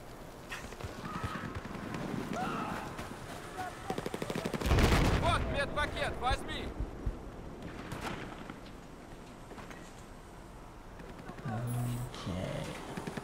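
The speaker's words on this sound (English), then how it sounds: "Someone's shooting." Rapid gunfire bursts in the video game Battlefield 4, a loud close volley followed by scattered distant shots, with players talking over the shooting.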